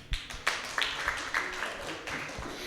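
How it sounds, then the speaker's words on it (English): Sparse, light applause from a small seminar audience, scattered claps with a few distinct sharp hits rather than a full ovation, fairly close and modest in volume. "Let us all give today's discussion a resounding round of applause."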